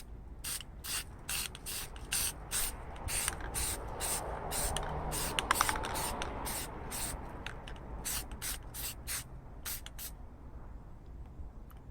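An aerosol can sprays primer onto a car roof in a series of sharp, hissing bursts of varying length, close and loud, separated by short pauses.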